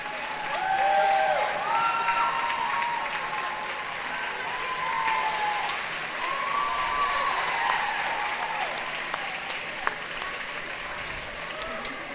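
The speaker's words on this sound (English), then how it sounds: "And you'll hear the applause." Applause and crowd cheering ring through an indoor pool at a high school girls' swim meet as a swimmer reaches the finish, sustained and echoing for several seconds, with a voice talking over it.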